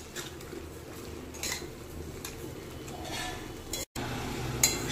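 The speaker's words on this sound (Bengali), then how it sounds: "এবার সুন্দর করে এটাকে মিশিয়ে দিতে হবে।" A spoon stirs a sesame and water mixture in a metal pan for a vegetarian dish, soft scraping and faint clinks repeating irregularly at low volume, close by with a brief gap near the end.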